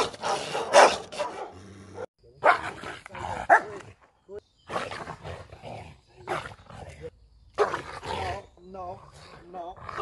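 A Malinois rescue dog barks and growls in loud, rough bursts separated by short pauses, with brief stretches of human voice between them.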